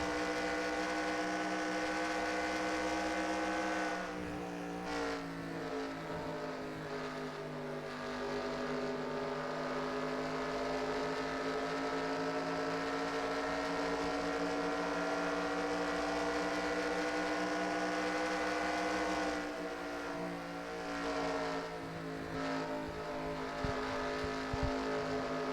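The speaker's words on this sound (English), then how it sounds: "Maybe we can see some views of cars going past" Race cars in the NASCAR Racing 2003 game at Chicagoland, a continuous loud engine drone with strong harmonic whine, rising and falling as cars sweep past around the fifth and twentieth seconds.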